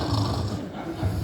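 A human voice mimics snoring with a short, rough, nasal snort, delivered in a stand-up comedy bit about a relationship partner; it is one brief, fairly loud imitation.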